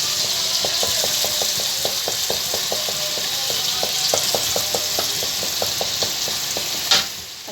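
Masala for beef karahi frying in oil, a steady close sizzle with rhythmic scraping strokes of a spoon against the pan, ending in a brief louder clatter.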